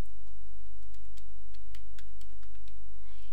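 Computer keyboard keys click steadily as code is typed, a close run of light taps over a low steady hum, no one speaking.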